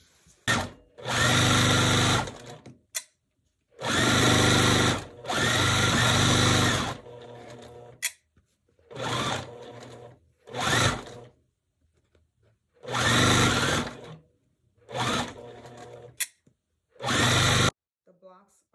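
A sewing machine stitches quilt block pieces together for a Tula Pink butterfly quilt, running in loud, steady bursts of one to three seconds separated by short quiet pauses, close up with no talking.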